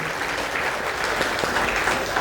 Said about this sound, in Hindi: थोड़ी ताली बजा दो